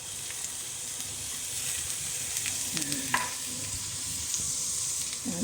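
Chopped garlic and ginger sizzle and fry steadily in a hot pan, a continuous crackling hiss with a few stirring scrapes and clinks, no talking.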